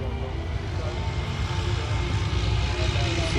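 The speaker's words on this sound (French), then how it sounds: "C'est un avion en colombulé." A propeller airplane, a tri-motor with one engine on each wing plus the nose and a corrugated metal skin, drones steadily overhead at an air show, a loud continuous low engine roar that swells slightly.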